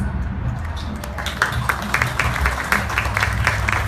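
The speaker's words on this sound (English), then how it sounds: "can we get another round of applause for the storytellers?" An outdoor festival crowd at a ComFest panel applauds the storytellers, clapping that swells from scattered hands into a steady, moderately loud round with distinct claps standing out near the end.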